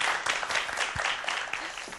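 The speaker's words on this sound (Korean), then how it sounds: "큰 박수 보내주세요" An audience claps together in a dense, fairly even patter that fades slightly toward the end, with no one speaking over it.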